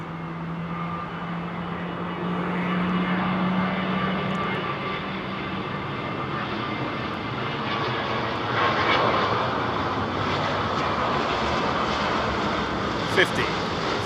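Airliner landing at London Heathrow with reverse thrust and spoilers deployed, a broad sustained roar of jet engines rising slightly and holding steady, under a person speaking nearby.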